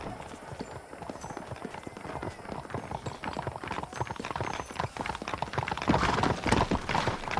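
Horse hooves clip-clop steadily in the Red Dead Redemption video game, a continuous rhythmic patter of several horses close by that grows slightly louder toward the end.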